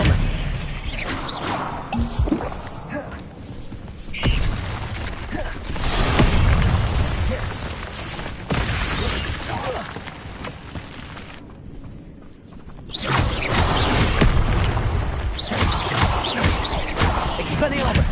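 Spell casting from the Hogwarts Legacy video game, the Expelliarmus disarming charm, a string of whooshing bursts and crashing impacts over a steady game soundscape, with louder sections near the start and end.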